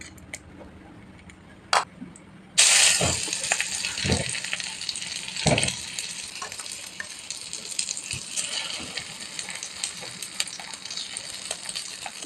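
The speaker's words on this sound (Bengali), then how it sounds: "এই যে দেখছো কত সুন্দর করে ভেজে নিচ্ছি" Eggplant slices fry in a pan on a small stove over a high flame, a bright steady sizzle that bursts up suddenly and stays loud, punctuated by occasional clinks and taps of a utensil.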